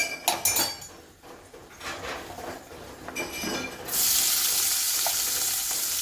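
Onions dropped into hot oil in a pan for a fenugreek leaf curry, sizzling loudly and steadily after earlier clinks of utensils and dishes.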